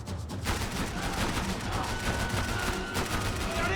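Rapid Max Payne 3 gunfire, a dense fusillade of overlapping shots crackling steadily throughout with little pause, loud and close.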